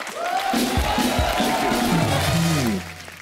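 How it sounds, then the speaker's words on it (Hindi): A studio audience on The Kapil Sharma Show claps and cheers loudly, with whoops and sustained shouted voices rising over a dense wash of clapping that fades near the end. "हमारे इन कलाकार दोस्तों के लिए भी जोरदार तालियां"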